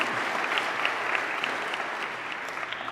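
Sustained audience applause at a Discovery Weekend prayer service honoring the youth staff, a dense, steady wash of many hands clapping for three seconds with no talk over it.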